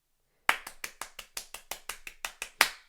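About a dozen sharp hand claps in an irregular quick series, close and dry, recorded into the ThumbJam app, with the last clap loudest and no talking.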